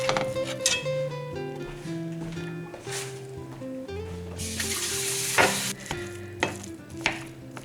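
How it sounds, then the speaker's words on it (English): Ground beef sizzles in a skillet with a steady frying crackle, punctuated by scraping and stirring clatter of a utensil against the pan, while soft background music plays underneath. "start cooking the ground beef in a skillet"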